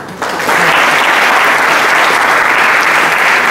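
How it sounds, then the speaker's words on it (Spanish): Loud, steady audience applause welcoming a speaker at the launch of an expressive-therapies program and theatre school, starting abruptly after a brief quiet moment and continuing as a dense, sustained clapping. "ya le recibimos con un fuerte aplauso"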